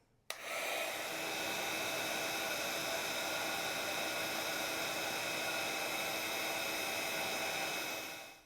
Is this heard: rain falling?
no